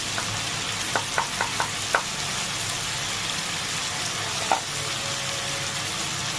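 Vegetables frying in a pan with hilsa fish head, a steady low sizzle broken by a few sharp clicks of stirring in quick succession and one more later.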